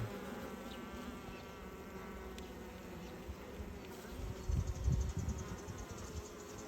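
A dense, steady buzzing of many honeybees at the hive, working in the honey super, close by and continuous, with a slight swell in the low hum partway through.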